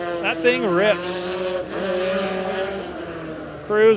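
A rally car at the Overmountain Rally in Tennessee, ARA event at Newport Speedway, revs hard with a buzzing engine note that drops sharply as it brakes for a jump, then climbs again near the end.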